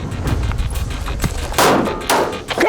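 Gunshots during military-style shooting drills: a couple of heavy, close, loud booming reports with sharp attacks and brief rumbling tails, standing alone with no talk.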